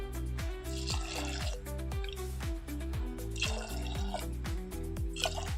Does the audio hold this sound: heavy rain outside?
no